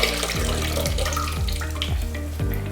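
A grouting sponge is worked and wrung out in a container of water, giving repeated wet splashing and trickling with a few rhythmic surges about every half second, close and fairly quiet.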